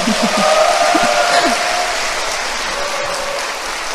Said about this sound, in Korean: 한번 크게 박수 쳐주세요